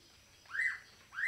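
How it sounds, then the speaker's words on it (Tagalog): Two short rising bird whistles, a second or so apart, sound faintly over quiet background hiss during a light drizzle. "Yan po pala ang ibon"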